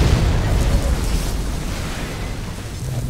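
A deep rumbling explosion from the video game Half-Life 2 Episode 1 fills the clip with a loud, sustained roaring boom that slowly fades.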